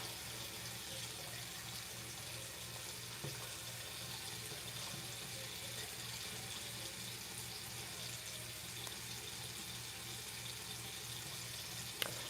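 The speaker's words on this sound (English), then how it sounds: "These are the brushes that has to be washed." Makeup brushes are rinsed under a running tap, a steady, fairly quiet stream of water splashing into a sink that continues unbroken throughout, with a faint electrical hum beneath and no talking.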